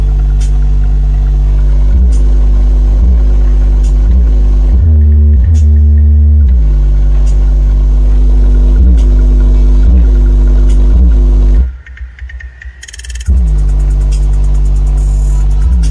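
Deep, thumping subwoofer bass from a car system driven by a Moco mono amplifier with a brand-new speaker, pounding in a steady loud rhythm that cuts out briefly near the end before resuming.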